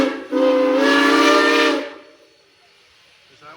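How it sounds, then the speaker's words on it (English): Strasburg Railroad steam locomotive 475 sounds its multi-chime steam whistle in one loud, sustained chord blast of under two seconds, then cuts off into quiet hissing and faint background sounds. "That's the best whistle that engine ever had. Multi-chime."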